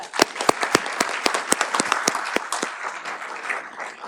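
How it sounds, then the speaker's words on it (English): Applause at a county Board of Supervisors meeting, with a handful of sharp, distinct nearby claps standing out at first before settling into a softer, steady patter of clapping from the room. "one more round of applause"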